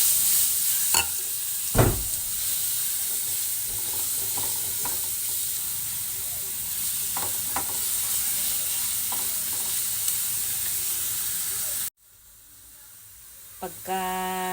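Chili garlic sizzling steadily in a hot pan, close and continuous, with occasional stirring scrapes and clacks before the frying noise drops away near the end.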